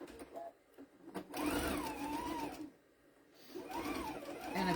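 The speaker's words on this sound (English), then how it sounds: "And I'm just going to sew this." Sewing machine with an even feed foot stitching the hem of a tea towel, a close, loud whirring hum in two long bursts separated by a brief pause.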